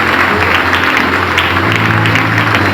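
Loud congregation applause at a church congress in Paraná, a full sustained wash of clapping with crowd noise, close and continuous.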